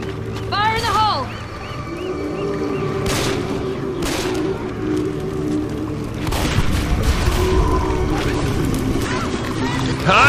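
A thrown explosive goes off in Left 4 Dead 2, a heavy booming blast amid continuous game noise and scattered gunfire, with character voices calling out over the action.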